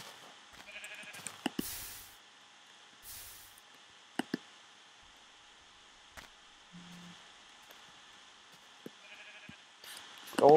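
Sheep bleats from a Minecraft-style survival video game sound faintly and sparsely amid quiet game ambience, with a few sharp clicks and thuds scattered through, and no talking.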